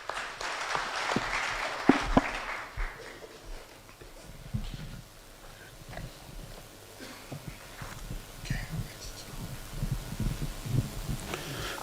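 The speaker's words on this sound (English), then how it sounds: "They will take their seats now as we clap for them" Applause from an assembly audience at a church general assembly plenary session, a loud burst of clapping early that fades into scattered, thinner clapping and shuffling for the rest.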